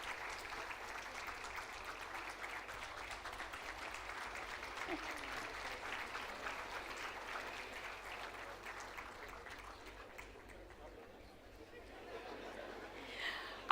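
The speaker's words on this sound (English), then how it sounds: "Keep applauding." Sustained audience applause at an MBA convocation ceremony, a long, fairly quiet wash of clapping heard from a distance that thins briefly before swelling again, with faint chatter underneath.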